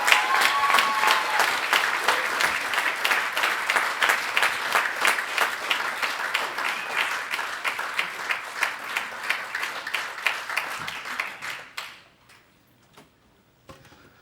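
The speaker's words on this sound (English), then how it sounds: "I encourage you to give him a round of applause for walking here today." Applause from a church congregation in Ipswich, steady dense clapping from many hands at fairly close range for about twelve seconds, then fading out abruptly into near silence with a few stray claps.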